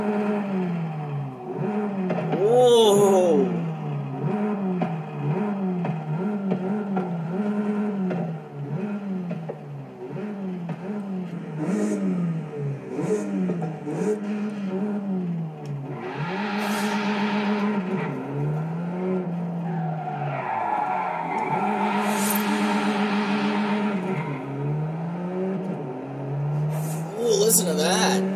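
A 2021 Mini John Cooper Works GP in Forza Horizon 5 revs its engine repeatedly, rising and falling in a rhythmic series of loud, close throttle blips, with a voice briefly exclaiming over it.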